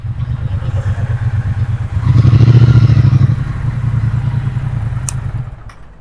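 Heavy motorcycle engine, a Bonneville T120 or Interceptor 650, idling and revving while being parked in Jaipur, a loud close rhythmic thump that swells briefly then settles back to a steady idle.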